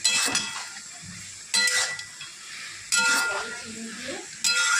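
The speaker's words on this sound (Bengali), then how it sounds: "আর এটাকে আমি করে নেব, নাড়াচাড়া করে নিই" Spinach for palak saag is stirred in a pan, several scraping clangs of a spatula against metal at irregular intervals over a faint sizzle.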